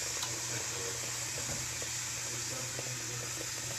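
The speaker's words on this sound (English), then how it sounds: "Add some water to this." Water pours steadily from a kitchen tap while dinner cooks, a constant hiss with a soft, faint splashing beneath.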